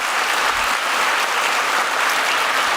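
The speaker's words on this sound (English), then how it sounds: "we'll give it a clap, why not?" A large conference keynote audience claps together, a loud, dense, even wash of applause filling the hall without a break.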